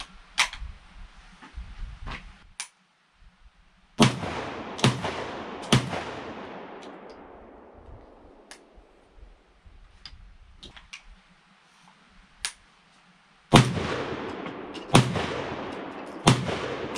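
Browning Gold 10 shotgun firing Federal shells at a range: four sharp, loud shots in two pairs, each with a long rolling echo, plus faint handling clicks early on.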